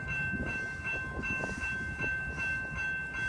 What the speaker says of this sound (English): Mainline train number 639 to Harvard is now arriving.